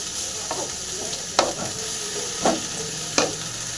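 Kuppaimeni herb leaves frying in a pan for a Tamil herbal soup, a constant sizzling hiss broken by several sharp scrapes of a spoon stirring against the pan.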